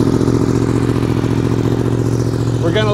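A Yamaha R1M motorcycle engine with an aftermarket exhaust and baffle idles loudly nearby with a deep, throaty, pulsing exhaust rumble that stays steady throughout, a brief voice near the end.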